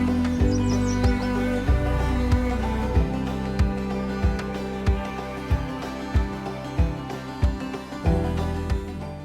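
Yellow warbler singing in trees at a nature center, short bright chirping phrases heard faintly behind a louder rhythmic thumping and humming background.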